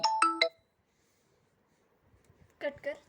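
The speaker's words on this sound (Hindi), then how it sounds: "त्याच्यात आवाज आला फोनचा।" A phone ringtone chimes in a quick three-note electronic burst at the start, then falls silent; a voice starts talking near the end.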